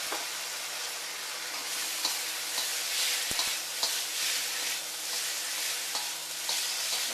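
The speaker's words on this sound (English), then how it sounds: "Going to sizzle up." Garlic flicked into very hot oil in a saucepan sizzles steadily, a dense continuous frying hiss with occasional stirring clinks, close and alone without talk.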